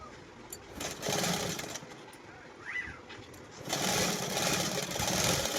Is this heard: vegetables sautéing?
no